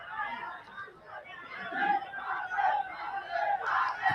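Crowd at a cricket stadium for a Nepal vs UAE match, a broad, swelling roar of many voices with chanting and shouts, loud and continuous, rising in the second half.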